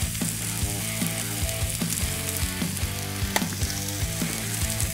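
Peppers and onions sizzle on a PK 360 grill for a ribeye sandwich, a steady close hiss running through the whole stretch while rhythmic background music with a regular beat plays over it.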